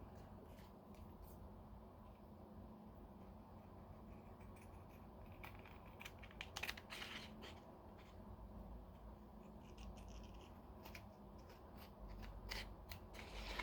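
Scissors cut out a Reshoevin8r sole shield for Jordan 1 sneakers, making a run of quiet, close snips and crisp clicks over a soft background hiss.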